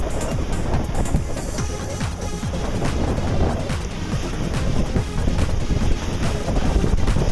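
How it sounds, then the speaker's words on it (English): Steady wind roars across a sailboat beam reaching at about six knots on Lake Michigan in 13-knot winds, a continuous broadband rush with gusty swells and water noise, no voices. "winds have picked up to 13 or so"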